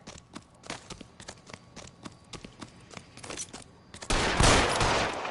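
Gunfire in the LA Noire video game rings out as a rapid string of sharp cracks at an uneven rhythm, then a loud, sustained burst of noise takes over near the end.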